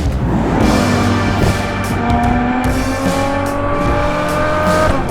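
A Ferrari GTC4 Lusso V12 engine revs and pulls hard, rising in pitch through gear changes on a bumpy road, loud and close with tire noise and no talking.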